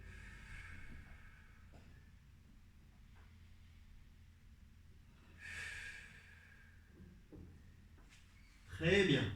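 Slow, deep breaths during a lower-body stretching session, soft close inhales and exhales with long quiet gaps between, ending in a louder rushing exhale.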